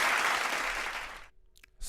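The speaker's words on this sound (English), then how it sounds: "we have to give HCD the applause on that" Applause on a call-in livestream, a dense burst of clapping that fills the first second and a bit, fades out abruptly and leaves near silence broken by a few small clicks before a brief noise returns at the end.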